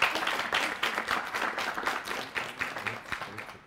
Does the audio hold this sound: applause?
yes